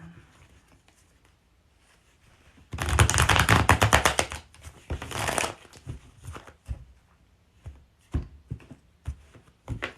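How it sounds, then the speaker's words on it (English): Tarot cards riffle-shuffled close up in a quiet room during a live reading: a dense, loud burst of rapid fluttering slaps, a second shorter riffle, then scattered soft taps and snaps as the cards are squared and laid down. "I'm pulling some cards tonight for Heidi."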